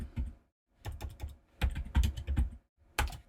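Keystrokes on a computer keyboard as a shell command is typed, coming in three quick bursts of close, clicky taps separated by short pauses, with no voices.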